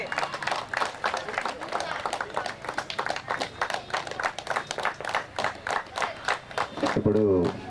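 An audience at a cricket T20 tournament award ceremony claps in a steady, rhythmic beat for several seconds, loud and close, and a voice briefly cuts in at the end.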